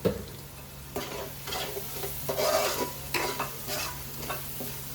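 Masala for a fish curry fries and is stirred in a pan, a steady close sizzle with repeated scraping strokes of a spoon, no voices.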